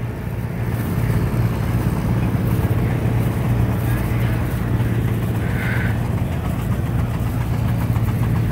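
Threshing machine running on belt power at an antique farm power show, a loud, steady mechanical drone with a low hum throughout and no clear speech.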